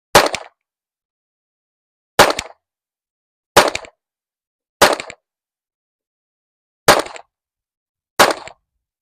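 Six sharp, loud pistol shots from a Springfield Echelon 4.0C fired at a 25-yard target, spaced unevenly about one to two seconds apart, each a hard crack with a short ringing tail and silence between.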